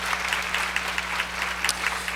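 A church congregation claps together during a sermon, a steady patter of many hands that holds evenly throughout at a moderate, slightly distant level over a low background hum.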